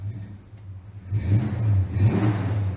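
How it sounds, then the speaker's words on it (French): An American car's 7.5-litre V8 engine idles low, then revs up into a deep rumbling roar with rising and falling surges, close and loud, no talking. "Écoutez un peu la bête qui rugit là, sous ce capot. Je vous le disais tout à l'heure, c'est un V8 7 litres 5."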